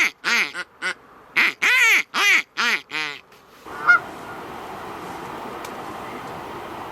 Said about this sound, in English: There's a goose out there and a couple of parries.